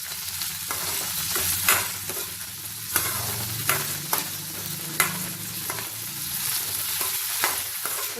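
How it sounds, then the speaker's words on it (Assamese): Onions and vegetables stir-fried for fried rice over low heat, a continuous sizzle broken by repeated sharp scrapes of a spatula against the pan, close and loud with no talking. "এতিয়া মই অলপমান কম জুইত এনেকৈ ভাজি থাকিম"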